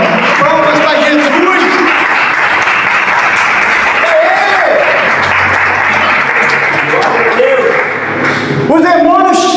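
A church congregation gives sustained loud applause for Jesus, dense clapping running throughout while a preacher's voice and shouts ring over it, ending with a louder vocal outburst.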